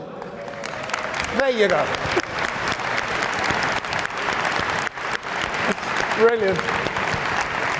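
A conference audience applauds in a sustained, dense wave of clapping, while a speaker's voice cuts in briefly over it.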